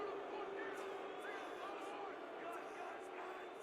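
A home crowd at a football game, a broad murmur of many voices from a distance, likely booing, steady and fairly faint throughout.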